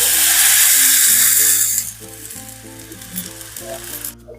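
Loud, bright sizzling bursts up as water hits hot oil tempering with coriander, then settles into a softer, steady bubbling hiss with faint clinks.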